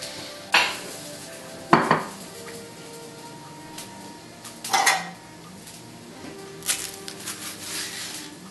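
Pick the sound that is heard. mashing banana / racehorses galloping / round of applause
mashing banana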